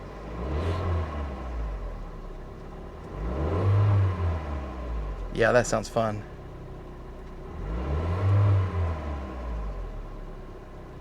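A small Fiat sports car engine is revved three times in slow, rising-and-falling swells, a deep rumble nearby, with people talking briefly between the revs.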